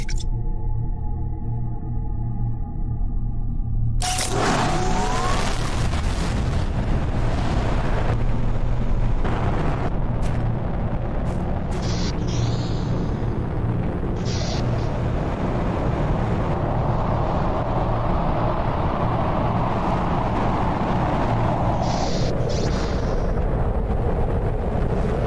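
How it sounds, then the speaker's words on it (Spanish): An iridium rocket lifting off in The Planet Crafter, a sudden loud ignition after a quiet start, followed by a sustained rumbling roar with scattered crackles and pops that holds steady for the rest of the launch. "Porque voy a seguir lanzando cohetes."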